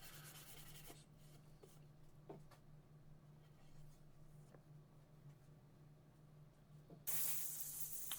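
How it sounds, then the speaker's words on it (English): Air blown over a sanded wooden cabinet door to clear dust from the grain, a soft faint hissing with light scuffs, then a loud steady blast of air near the end. "So I'm just blowing it off, getting all that dust out of the grains."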